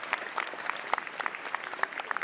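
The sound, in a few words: audience applause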